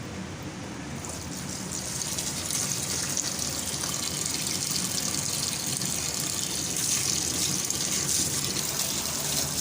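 Cold water runs from a kitchen tap over boiled noodles in a strainer, a steady close gushing hiss that holds throughout with no speech over it.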